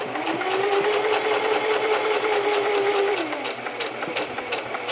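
A pedal-controlled sewing machine whirs steadily and close by as it stitches a quarter-inch seam in fabric for a French seam, with a humming motor tone that eases off near the end.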